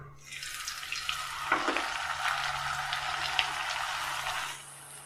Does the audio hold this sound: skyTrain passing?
no